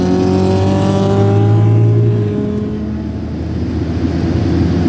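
A turbocharged Pontiac drag race car accelerates hard at a drag strip, a loud close engine howl rising in pitch through the gears before fading into a broad rushing roar.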